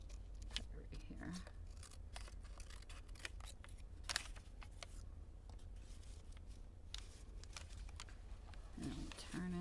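Scissors snip through paper pages of an altered book being decorated, a series of short sharp cuts in an irregular rhythm over a steady low background hum.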